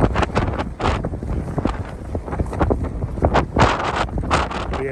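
Strong gusty wind on Caer Caradoc hill buffets the microphone with loud, low rumbling roars that surge and ease continuously, with no voices.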